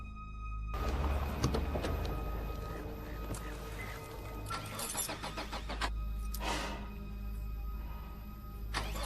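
A car engine cranks and catches, with a few sharp clicks and rattles followed by an uneven running idle, heard fairly close but at moderate volume.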